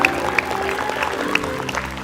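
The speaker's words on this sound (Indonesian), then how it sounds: "tepuk tangan Bang Tompel" A studio audience claps for a guest on an Indonesian game-style talk show, a moderate burst of applause with a few sharper claps standing out over a low tonal bed, no voices on top.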